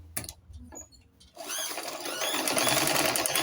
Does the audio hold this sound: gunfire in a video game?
no